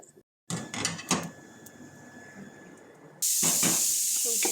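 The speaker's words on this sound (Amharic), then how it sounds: "እየፈላ ነው። ማካሮኒን ጨምራለሁ ማለት ነው።" Dry macaroni drops into a pot of boiling water with a few light taps and rattles, then a loud, steady steam hiss rises close by. A voice talks softly under the sounds.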